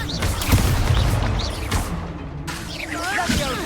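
Spell explosions from the Hogwarts Legacy video game: a busy run of booms, bursts and crackling magical impacts over a few seconds, some rumbling low and some with shimmering whooshes, loud and dense.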